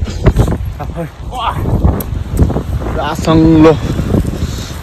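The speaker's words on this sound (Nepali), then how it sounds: "फेरि पनि हावा चल्न थालिसकेको छ" Gusts of wind rumble and buffet the microphone outdoors while people talk over it.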